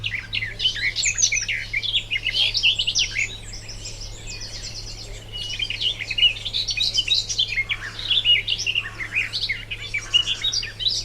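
A reed warbler sings a continuous, busy stream of chattering, scratchy phrases from lush waterside vegetation, fairly close and clear over a low steady background hum.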